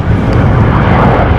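Airplane landing in storm conditions at Amsterdam Schiphol Airport, heard as a loud, steady jet roar mixed with heavy wind rumble for a brief moment.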